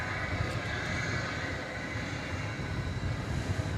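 A CargoLux Boeing 747-8 arrives at DFW airport at night, a steady, distant jet roar that fills the scene without a break.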